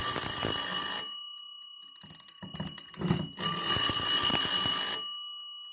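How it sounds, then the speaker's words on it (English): A 1910 Junghans carriage clock with a striking feature has its alarm mechanism wound, giving a close run of dry ratcheting clicks set between loud bursts of the ringing alarm bell before and after. "try to wind the alarm mechanism in there"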